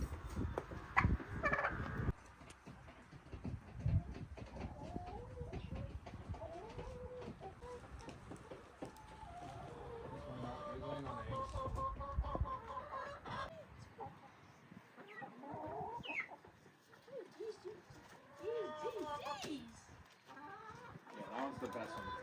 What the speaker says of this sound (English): There's my new rooster Oreo.